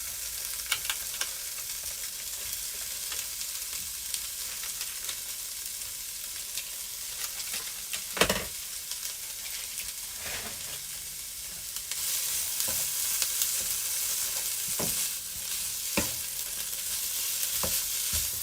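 Precooked salmon warming in a hot pan, a steady close sizzle with intermittent scraping stirs, growing a little louder and brighter partway through, no voices.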